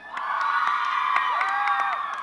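A school crowd of youths in a large hall at a Martin Luther King Jr. commemorative vigil cheers and shouts loudly, a dense, sustained roar of voices with scattered whoops.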